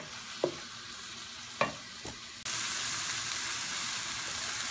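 Seafood pastilla filling of shrimp and vermicelli cooking in oil in a pan, a steady soft sizzle with a few scraping stirs of a utensil, close and fairly quiet.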